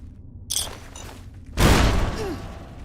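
Laser rifle fire in Fallout: New Vegas, a short zapping blast followed by a louder, booming discharge that decays with a faint whine.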